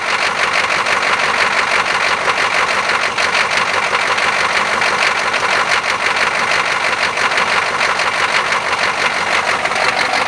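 A cold K5 diesel engine with a suspected bad glow plug or injector runs roughly and steadily at close range, a loud continuous rattling drone with no talk over it.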